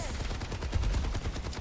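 Rapid automatic gunfire from an Overwatch 2 match rattles in a dense, continuous burst, loud and close throughout, with no voices over it.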